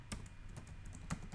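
Quick, light clicks of keys on a computer keyboard come in an irregular burst of about a dozen presses, close and fairly soft.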